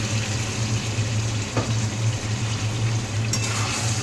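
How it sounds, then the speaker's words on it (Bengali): Marinated chicken goes into a pan of fried onions and fries with a steady, loud sizzle, a constant bubbling hiss with a low hum beneath it and no talking. "এবার ম্যারিনেট করা চিকেনটা এর মধ্যে দিয়ে দেবো"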